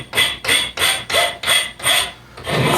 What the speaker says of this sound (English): we might come in and small it up with a slightly smaller half-round file